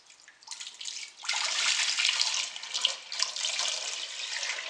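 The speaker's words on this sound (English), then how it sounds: "Justin's got his jug full of water, and we're going to fill up the eggs until it's about an inch above the eggs" Water poured from a jug into a pot of eggs, a close, steady rushing splash that starts softly, surges louder after a moment and keeps flowing evenly to the end.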